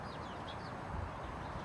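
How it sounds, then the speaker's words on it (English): Sparrows in dried bushes give a few faint, scattered chirps over a soft outdoor background, with a brief low rustle partway through. "This is sparrows."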